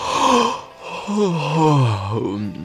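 A storyteller imitates a giraffe's small yawn with a drawn-out, sighing, falling vocal sound, loud and close, that wavers and bends through the clip.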